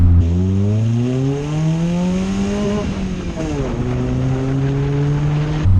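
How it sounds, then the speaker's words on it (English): A deep exhaust on a modified Toyota Starlet with an aftermarket manifold and 2.5-inch exhaust burbles and rises in pitch under hard acceleration, easing briefly before climbing again, loud and close. "Nice hard acceleration out the other side, and it burbles away fantastically."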